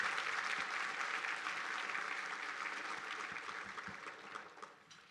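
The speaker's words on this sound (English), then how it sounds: "Let's give all of those wonderful people a round of applause." Sustained applause from an audience at a chamber of commerce economic outlook event, a dense steady patter that holds for several seconds and then slowly thins out, with no voices over it.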